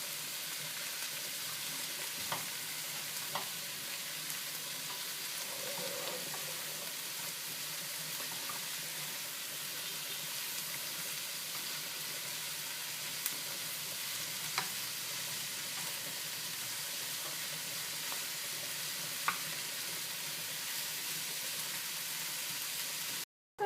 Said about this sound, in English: Fold the onions along with the garlic.